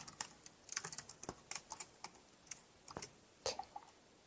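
Typing on a computer keyboard while entering code, a quiet, fairly steady run of light key clicks with short pauses and one slightly heavier cluster near the end, alone without talk.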